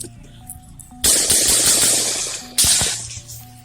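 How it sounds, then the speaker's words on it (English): A SWAT officer's gunshot, fired at a shooter near a barn about 100 yards away, is captured as a sharp, loud crack with a rushing noisy tail, followed by a second burst, over a faint background hum. "He quickly fired a shot, which was the 9th shot heard here."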